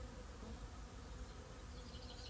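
Honeybees buzzing around Christmas rose flowers in March, a dense low continuous hum of many insects close by, steady and faint, with no voices.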